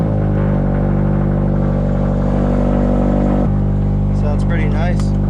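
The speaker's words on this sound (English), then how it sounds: "Go ahead and get a cold start" A car engine idling steadily after a cold start, a loud close low rumble that stays constant, with a voice speaking briefly over it near the end.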